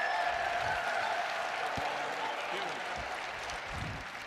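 Crowd applause at the Westminster Kennel Club Dog Show greeting a beagle, a steady wash of clapping that fades slightly, under commentators talking.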